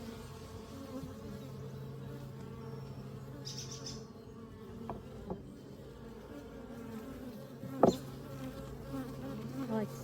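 A honeybee swarm being moved into a hive box gives a steady, close, continuous buzzing hum that fills the whole stretch, with a few brief knocks and one sharp thump near the end.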